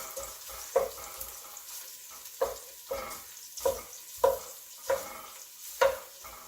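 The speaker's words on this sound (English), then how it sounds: "So I like to stir this a little bit." Red sauce in a pot is stirred with a utensil, making a regular series of about seven thick, wet scraping strokes roughly every half second to second, close and moderately loud with no talking.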